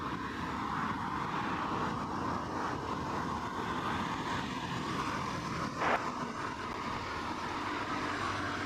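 A Qantas Boeing 787-9 Dreamliner inbound from Singapore arrives at Heathrow at sunrise, heard as a faint, distant, steady jet roar with a brief louder swell partway through.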